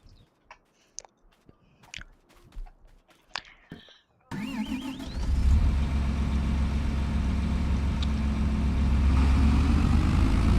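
A tractor engine in a farming video game starts up after a few faint clicks and scattered quiet sounds, then holds a loud, steady, low rumbling drone with a constant hum that carries on to the end.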